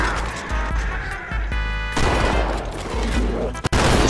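Video game shotgun blasts boom in rapid succession, loud and close, with crashing impacts between shots and a final sharp blast near the end.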